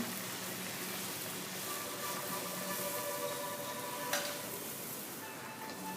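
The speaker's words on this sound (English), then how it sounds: "as she turns it and fries it till it turns golden brown" Kachori deep-frying in hot oil in a kadai gives a steady, dense sizzle that holds even throughout, with one brief louder crackle partway through and no voices.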